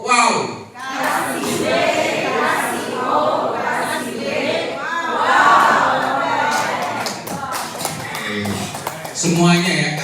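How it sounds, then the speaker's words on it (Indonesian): A group in a school setting performs a clapping chant, with many voices calling out over scattered claps and taps. The noisy crowd sound runs continuously with bursts of shouting. "Kasih tepuk wow buat kita semua."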